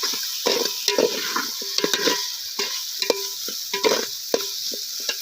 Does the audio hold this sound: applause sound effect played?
no